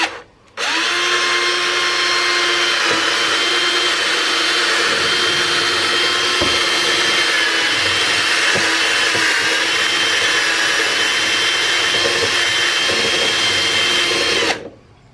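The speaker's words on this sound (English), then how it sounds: "just kind of drill your hole." A power drill bores a hole while installing a parking brake lock on a Can-Am Ryker, a loud steady high whine running nearly fifteen seconds with slight load changes, starting and stopping abruptly.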